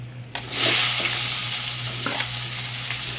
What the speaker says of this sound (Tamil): சேர்த்து வெங்காயம் நல்லா வதங்கட்டும்